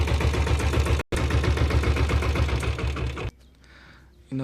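A 1997 diesel Royal Enfield Bullet motorcycle engine runs with a loud, rapid, rhythmic chugging thump, cutting briefly, then dropping to quiet before resuming; someone talks alongside.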